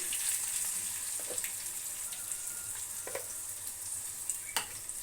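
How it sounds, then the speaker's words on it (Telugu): Rice, coriander seeds, cumin and a little pepper roast in a pan: a steady dry hiss with faint scraping stir clicks scattered through, close and fairly quiet, with no talk. "ఇది బియ్యం ధనియాలు జీలకర్ర కొంచెం మిరియాలు వేసి వేపేసి పొడి చేస్తాను"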